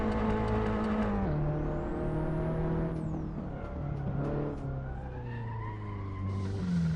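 Race car in the driving game Assetto Corsa skidding off after failing to brake, with engine pitch dropping and rising, tires squealing and scraping, loud and continuous without talk.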